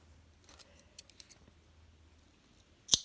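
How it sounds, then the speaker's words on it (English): Scissors snip through a crochet yarn tail on a face scrubby, a few faint light clicks followed by one sharp, close cut near the end. "you can snip that little tail off as well"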